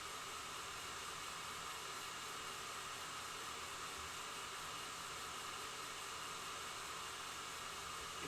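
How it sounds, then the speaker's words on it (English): A hair dryer blows a steady, even whoosh of air throughout, faint and unchanging, with no voices over it. "Using like a hair dryer."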